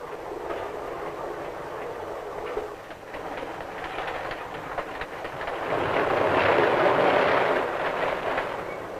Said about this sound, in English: the train speeds toward the sunset